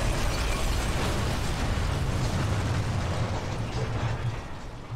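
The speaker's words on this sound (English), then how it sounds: "I'm gonna chuck a grenade" A grenade blast in Sniper Elite 3: a loud, sustained roar of rumbling noise that holds steady throughout without easing.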